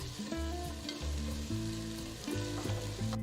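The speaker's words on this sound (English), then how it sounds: "Saute the onions till they've turned to a nice golden brown color." Onions and green chilies sauté with ginger garlic paste for chicken pulao, giving a steady frying hiss with occasional stirring. Sustained musical tones play underneath, and no one speaks.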